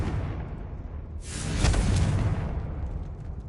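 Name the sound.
Confringo explosion spell cast in a Hogwarts video game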